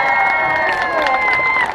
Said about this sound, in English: They all want to clap for you.